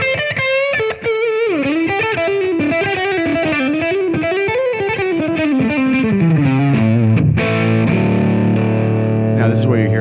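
Electric guitar plays through an amplifier with the bright switch in its first position on the neck pickup, giving a loud, close, slightly overdriven sliding melodic line that ends in sustained ringing chords, heard alone.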